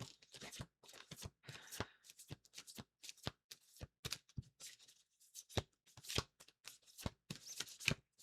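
Tarot cards are shuffled by hand close up, a rapid series of crisp papery riffles and slaps in irregular bursts, quiet, with no talking.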